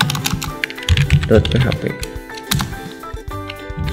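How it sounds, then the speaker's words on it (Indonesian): Quick, irregular clicks of typing on a computer keyboard sound close and clear while someone talks over them. "Kita ketik PHP, tekan tab yang otomatis dibuatkan, sama aja."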